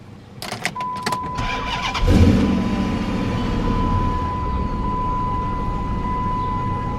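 A used car's engine cold-starts after a steady dashboard chime and a few clicks, catching quickly and settling into a loud, close, even idle that runs to the end with no one speaking.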